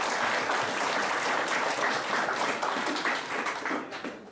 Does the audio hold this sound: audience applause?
yes